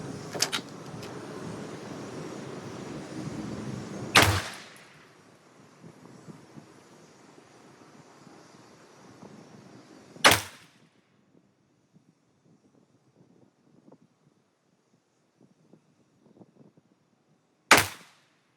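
Three sharp, loud single shots from an IWI Masada Slim 9mm handgun fired at an outdoor range, spaced several seconds apart, with a low rumbling background before the first shot and near quiet between the later ones.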